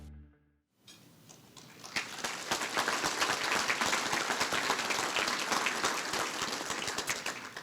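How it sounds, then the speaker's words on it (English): Applause rises from a brief quiet into a steady, dense round of clapping from an audience at a regional chamber economic forecast event, holding loud and even for several seconds. "thank you for the round of applause"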